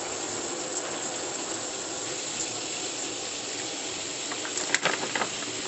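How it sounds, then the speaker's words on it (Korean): Warm water runs steadily from a kitchen tap into a plugged sink, a constant rushing wash with a few small clinks near the end and no talking. "싱크대 뚜껑을 막고 따뜻한 물을 좀 받아줍니다"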